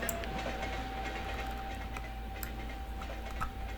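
A reversible train hauling limestone bulk cars runs in the rail-building video game Mashinky, a steady low mechanical rumble with light rhythmic ticking and faint clicks, quiet and continuous throughout.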